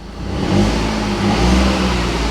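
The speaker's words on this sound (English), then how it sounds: "Revs up fine, engine sounds spot on, right?" A flood-damaged car with a replacement engine in limp mode revs steadily, a loud, close mechanical drone that swells a little twice with no voices over it.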